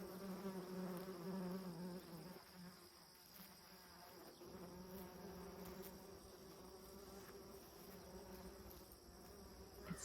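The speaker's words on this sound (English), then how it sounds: "can you hear all this bees?" Bees buzz steadily and continuously among marigolds and zinnias in a midsummer Pennsylvania vegetable garden, a close, dense hum with other insects chirring in the background.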